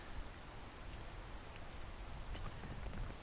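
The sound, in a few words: rain falling in the video game Peak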